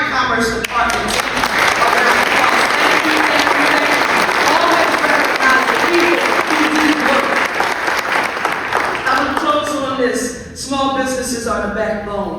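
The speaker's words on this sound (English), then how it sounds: "give the entire Commerce Department a round of applause" An audience at a Philadelphia Commerce Department event for a free small-business tax preparation program applauds loudly and steadily for about ten seconds, with cheers rising over the clapping before it fades.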